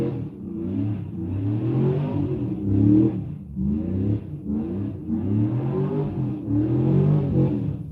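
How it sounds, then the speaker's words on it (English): An outdoor car engine revs loudly and repeatedly, with each throttle blip rising and falling in a steady pulsing pattern that stays close and prominent the whole time. "Someone's like making sure their engine runs"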